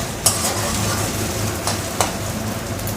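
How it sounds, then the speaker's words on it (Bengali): Ginger-garlic paste sizzling and frying in a pan while being stirred for a Bengali rohu fish curry, a steady hiss with a few sharp scrapes and clinks of the utensil against the pan. "আদা রসুনের পেস্টটা দিয়ে কিছুক্ষণ নেড়ে চেড়ে নিয়েছি।"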